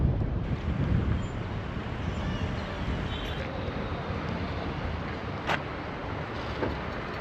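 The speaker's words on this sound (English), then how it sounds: "Blimey, it's windy." Strong wind buffeting the microphone outdoors, a continuous low rumbling roar with gusty swells throughout.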